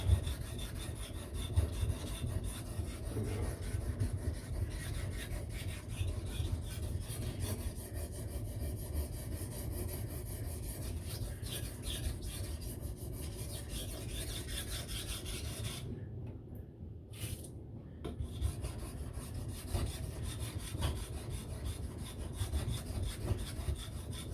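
A custom MagnaCut steel knife drawn steadily across a sharpening stone, a continuous close rasping scrape with a rhythmic back-and-forth texture and one short pause near the end.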